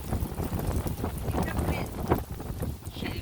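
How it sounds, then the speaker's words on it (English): Wind blowing outdoors at a camp cooking setup, a constant loud rumbling buffet across the microphone with gusty swells, and a voice speaking underneath. "She noticed we have wind."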